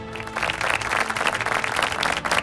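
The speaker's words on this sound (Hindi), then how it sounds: "तो जोरदार तालियों से स्वागत करिए" An audience at a national family Bible quiz show claps to welcome a parish team, a short burst of lively, fairly loud applause with many hands together.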